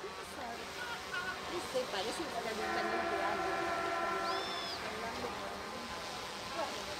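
Tren de las Sierras train horn in Córdoba, Argentina, sounding one sustained, tonal blast midway through, set against steady crowd noise and nearby voices.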